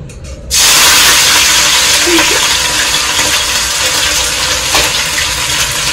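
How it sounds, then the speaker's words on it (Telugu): Chicken pieces dropped into hot oil for chicken pickle burst into a loud, close, sustained sizzling hiss that starts suddenly and keeps going without talk. "ఇక్కడ నూనె అయితే హీట్ అయిపోయింది. ఇప్పుడు నూనెలో వేసుకోవాలి."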